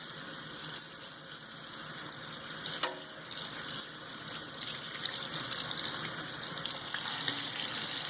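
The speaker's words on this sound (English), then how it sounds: "So then I rinse the soap out with cold water." Cold tap water runs steadily while a silk garment is rinsed of soap, a continuous hissing splash with faint sloshing and handling sounds throughout.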